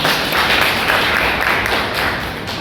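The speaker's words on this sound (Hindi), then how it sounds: "जोरदार तालियां" Audience at a college students' union oath-taking ceremony breaks into dense, sustained clapping, loud and steady throughout without a pause or voices standing out.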